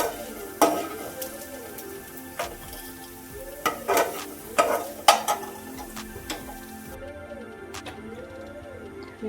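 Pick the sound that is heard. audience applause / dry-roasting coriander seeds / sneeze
dry-roasting coriander seeds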